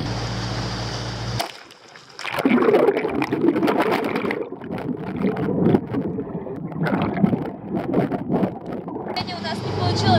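Whale-watching boat out on cold, windy water off Australia, a continuous loud rush of wind and motor noise with buffeting gusts throughout, after a brief cut at the start.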